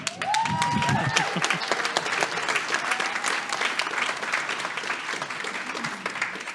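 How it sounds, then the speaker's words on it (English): Sustained applause from a lecture audience at a photography festival keynote in San Diego, loud and steady throughout, with a brief whistle-like tone near the start. "It's a lot of applause."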